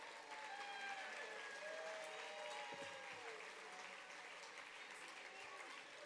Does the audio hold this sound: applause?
yes